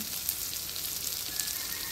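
Keema sizzles in a pan with chopped tomato, green chillies and salt, making a soft, even frying hiss that runs steadily without pause at a fairly low volume.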